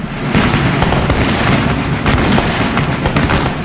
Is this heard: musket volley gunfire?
yes